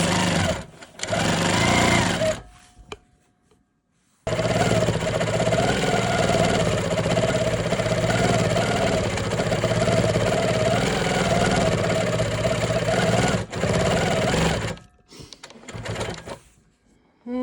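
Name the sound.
longarm quilting machine stitching a quilt-as-you-go strip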